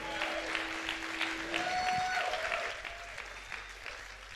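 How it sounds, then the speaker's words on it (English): An audience at a church-style motivational talk claps hands in a brief, fairly faint burst under sustained tones, with scattered voices and the clapping continuing softly throughout. "Clap your hands."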